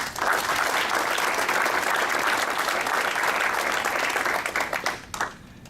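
An audience at a Rotary club induction applauds loudly and steadily, a dense wash of clapping that tapers off at the end.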